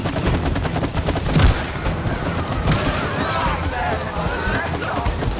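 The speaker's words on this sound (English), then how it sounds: "You have to shoot the chain." Gunfire in the video game It Takes Two, rapid repeated shots in quick bursts with a couple of louder booms, while players talk over the action.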